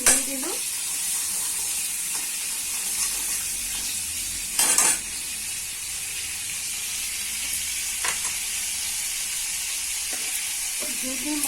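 Ghee added to oil in a kadai while cooking a restaurant-style cauliflower curry, giving a steady, close, hissing sizzle throughout, punctuated by a few sharp metal utensil clanks against the pan, with no talking.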